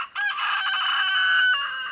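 A single loud, close rooster crow on an off-grid homestead, one sustained harmonic call lasting about two seconds, with no talking.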